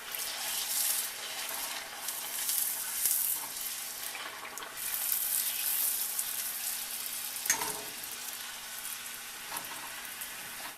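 Pani puri shells fry in hot oil, giving a steady, soft sizzle with small bubbling bursts throughout.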